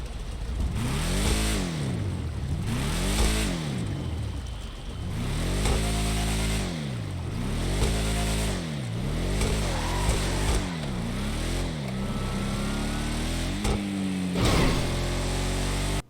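In GTA 5, the Gauntlet Classic's exhaust revs repeatedly in a steady rhythm of rising and falling sweeps, loud and close, then settles into higher held revs near the end with no talking.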